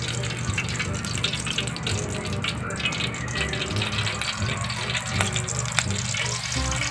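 Cooking oil heats in a hot calderin pot and gives a steady, moderate sizzling hiss throughout, with faint voices in the background.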